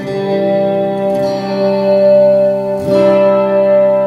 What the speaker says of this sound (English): this is a very long reverb